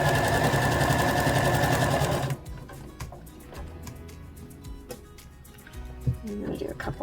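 Sewing machine stitching a dress top, a loud continuous whirring run that stops after about two seconds, followed by quieter clicks and handling noises, with a person talking briefly.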